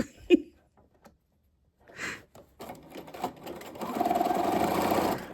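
A domestic sewing machine stitches a zigzag, starting with a few scattered clicks and handling noises, then settling into a close, steady whirring run over the last second and a half.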